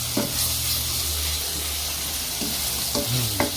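Spices fry in hot oil in a pan for homemade tomato sauce, a steady close sizzle with a few stirring scrapes and clicks over it.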